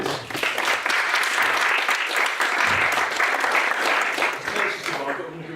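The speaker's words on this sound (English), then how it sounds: "Round of applause, please." A seated audience at a Black British history talk gives a sustained, even round of dense clapping, close and full for several seconds before easing slightly at the end.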